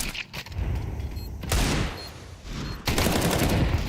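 Gunfire in Counter-Strike 2 during a competitive esports match, with sharp bursts of rapid shots coming in three clusters over a few seconds, loud and close with no voices.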